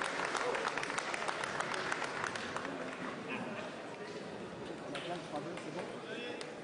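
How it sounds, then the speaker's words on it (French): Applause from a competition audience for a windscreen replacement fitter at a national championship final, a steady dense patter of clapping mixed with crowd noise, with a commentator talking over it throughout. "Et Olivier qui vient de recueillir quelques applaudissements aussi."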